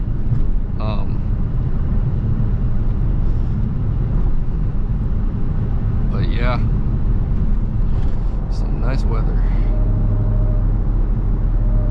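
A Dodge Charger Hellcat in track mode drives through heavy traffic, its engine a steady, low, droning rumble heard from inside the car, with someone talking over it now and then.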